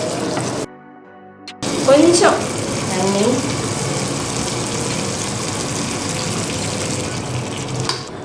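Tamarind-water solution poured into a cooking pot for sambar rice, a steady liquid rush and sizzle running through the clip under a voice speaking Tamil, louder near the start.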